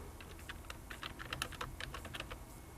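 Rapid typing on a computer keyboard as a first and last name are entered into a form field, with irregular bursts of soft key clicks close by over a quiet background hum.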